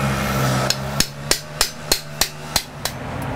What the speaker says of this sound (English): It's always good to have a hammer to break the bolts loose.